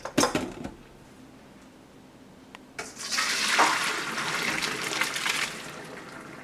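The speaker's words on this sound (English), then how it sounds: "When it's done, take it off the heat and drain it." Cooked spaghetti being drained, water pouring and splashing steadily into a sink for several seconds after a brief clatter, close and moderately loud.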